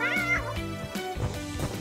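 Cartoon kittens meow several times in quick succession, close and fairly loud, their high voices rising and falling.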